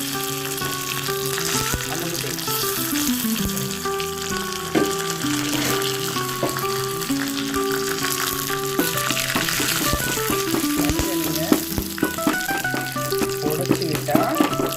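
Mustard seeds and curry leaves sizzling and crackling in hot oil, a loud continuous fry with stirring scrapes and an occasional voice talking over it.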